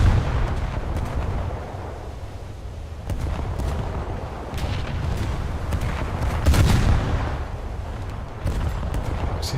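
Naval guns fire repeatedly in a boat combat video game, heavy booming shots rolling over continuous loud rumbling battle noise, with several distinct blasts spread across the stretch and no talking.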